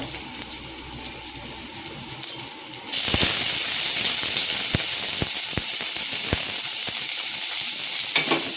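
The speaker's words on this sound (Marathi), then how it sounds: "आता याच्यामध्ये आपण कांदा टाकूया." Onion added to garlic and green chilli already frying for paneer chilli: a quieter sizzle suddenly swells into a loud, dense frying hiss, with sharp stirring clicks scattered through it.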